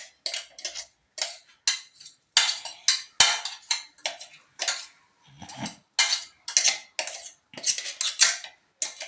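A spoon scrapes ground spice paste into a metal pan while sardine curry with tapioca is being cooked. Repeated close metallic clinks and taps come in irregular bursts with brief pauses between them, and no one talks.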